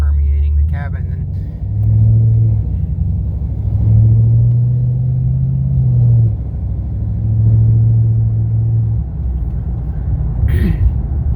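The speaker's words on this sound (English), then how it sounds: "when I get to the bottom of the hill and start accelerating up, you're going to hear it really just start permeating the cabin" 2013 Chevrolet Camaro SS convertible with a new exhaust, accelerating uphill: a loud, deep exhaust drone swells and falls in several long surges heard from inside the cabin, with someone talking in between.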